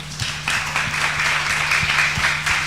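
Audience at a financial literacy roadshow panel giving a round of applause, a dense, even wash of clapping at moderate level with a low steady hum underneath, no voices.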